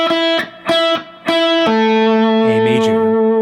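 Electric guitar lead phrase from a song, loud and distorted with effects, several short picked notes followed by a long sustained bend-like note ringing to the end.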